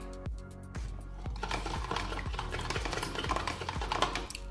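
A utensil scrapes and knocks rhythmically against a bowl while cucumber salad is mixed, about once a second in clear repeated strokes, close and moderately loud, with no talking.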